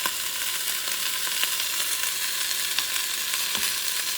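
Annatto oil sizzles and crackles steadily in a pot, a continuous bright frying hiss with small pops and no voices.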